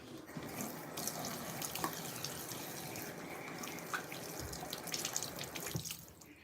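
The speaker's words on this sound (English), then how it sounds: "Washing my hands." Hands being washed under a running tap at a sink, a continuous splash of water with irregular drips and rubbing splashes, close and soft, no talking.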